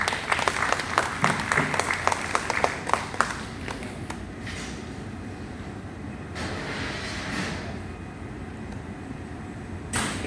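Audience applause for a glassblower at a live hot glass demonstration beside a cooling oven, a burst of clapping that is loudest at the start, then thins into a steady murmur of scattered claps and crowd noise.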